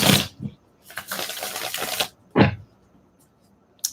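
Tarot cards being shuffled nearby in a few short bursts of brisk riffling and shuffling, separated by quiet pauses.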